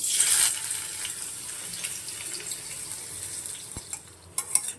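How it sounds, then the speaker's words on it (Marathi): Onion and tomato frying in a pan for a chicken curry, a steady broadband hiss and sizzle throughout with a few faint clinks near the end, no voices. "आता मी कांदा टोमॅटो आधी फ्राय करून घेते"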